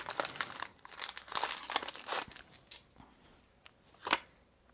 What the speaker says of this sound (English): So we got 4 packs. Let's open this one.